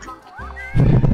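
A horse in the Red Dead Redemption video game gives a short whinny, followed by a louder snort or hoof noise, brief and close.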